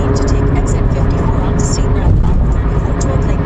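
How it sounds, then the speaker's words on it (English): Loud, steady road roar from a car on a noisy roadway with new tires, during Ohio delivery driving, a dense low rumble of tires and engine filling the whole stretch without letup. "This road is really noisy."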